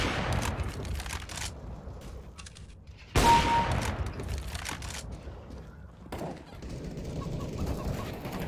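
Bursts of rapid gunfire crackle in CS:GO, with a sharp loud volley midway and scattered shots around it.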